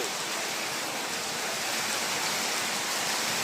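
Heavy storm rain in Feni pours as a steady, even wash of noise, fairly faint and continuous, with no voices.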